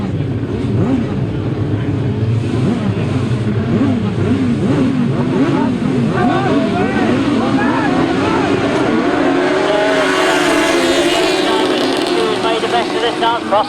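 Grasstrack sidecar outfits race into the first turn, a loud, continuous snarl of several engines rising and falling as they pass, with a voice talking over them.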